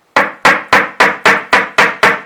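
A hammer taps eight times at an even, quick rhythm against an old plaster sheet wall, making a hole. Each strike is close, sharp and loud, with a short decay and no other sound.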